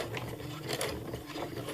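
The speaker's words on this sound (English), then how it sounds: "And now I will start sewing" A sewing machine running a stitch through checked fabric, starting with a few stitches forward and back, gives a steady close rattling whir for the whole stretch with no one talking.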